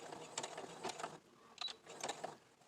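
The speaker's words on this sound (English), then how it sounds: "The needle down, advance it forward, and reverse." Bursts of mechanical whirring and clicking from a computerized sewing machine stitching a fabric mask in short runs, with forward and reverse stitching and pauses between, fairly close and moderate in volume.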